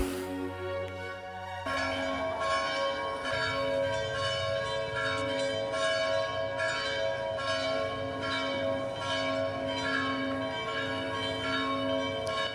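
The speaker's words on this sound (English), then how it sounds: "Can I get copyrighted for church bells?" Church bells ring out in a continuous, overlapping peal, their deep tones sounding loud and sustained over a steady background hum.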